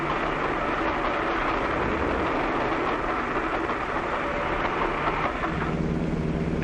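A train rumbles steadily overhead on a railroad bridge above a highway underpass, a loud, continuous roar with faint rhythmic clatter and no voices.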